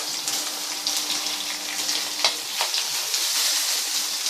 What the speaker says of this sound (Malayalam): സവാള ഇട്ട് ഇളക്കിയ ശേഷം